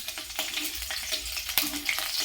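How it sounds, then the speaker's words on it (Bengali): Green chillies sizzle and crackle steadily in hot oil, a close, constant hiss with a few sharper pops. "তেল গরম হয়ে গেছে, এখানে আমি এবার এর মধ্যে এই কাঁচা লঙ্কাগুলো দিয়ে দিলাম"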